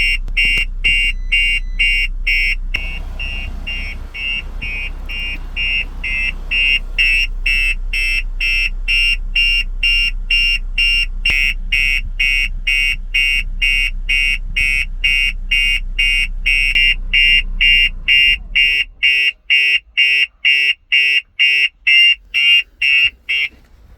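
Starline S9 alarm sounding on a 2023 Audi RS3, a loud, steady, rapidly pulsing electronic buzz over an engine hum, switching to slower separated beeps near the end.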